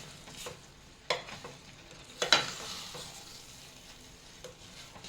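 A milk rava sweet is stirred nonstop in a pan, giving soft scraping and gentle sizzling with a few sharper knocks of the spoon, heard close up and alone.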